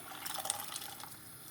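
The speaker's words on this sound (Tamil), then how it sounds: "அந்த தண்ணியோடையே இதில் ஊற்றிடலாம்." Soaked sago and its soaking water poured into milk for sago milk kheer, a soft, close liquid pouring and splashing lasting about a second and a half.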